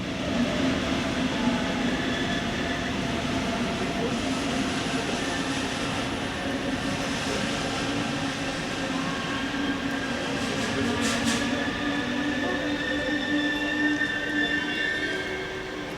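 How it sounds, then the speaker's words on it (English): A DB Class 146 electric locomotive hauls a regional train past at Wunstorf on the Bremen–Hannover line. The passing makes a steady, moderately loud rolling hum with a faint high whine, and one brief sharper clatter stands out near the end. "Class 146 electrics are also regular visitors here, mainly on DB regional services from and to Hannover."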